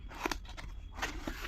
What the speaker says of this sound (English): let's go ahead and unseal this and take this out